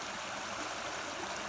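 The River Arrow at Kington, Herefordshire, near the Welsh border, flows with a steady close rushing and babbling of stream water, continuous and unbroken.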